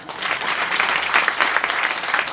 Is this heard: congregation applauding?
yes